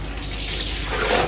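Running water pours steadily from a tap, a close, loud, continuous hiss and splash with no breaks.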